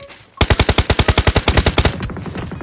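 Rapid automatic gunfire in a shooter video game, a burst of about fifteen evenly spaced loud shots, followed by a softer rattling tail with no talk over it.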